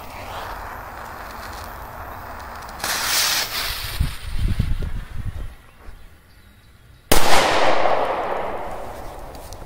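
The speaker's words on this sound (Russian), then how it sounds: "Есть взрыв." A sharp firecracker bang bursts out suddenly, loud and close, followed by a hissing crackle and outdoor rustling after a quieter stretch of ambient noise.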